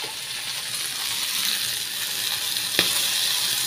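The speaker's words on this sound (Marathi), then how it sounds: "आता आपण इथे तेल टाकणार आहोत।" Oil goes into a hot kadhai with a steady, close hiss of sizzling throughout and a single sharp click near the end, with no voices.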